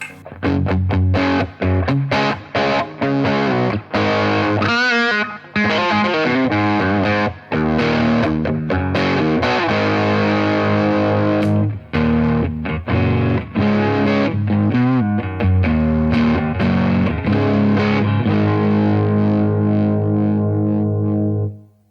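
A Telecaster electric guitar played through a Zander Circuitry Cranium overdrive pedal sounds loud and alone, with mildly driven, punchy chords and riffs heavy in the low mids that ring out and fade at the end.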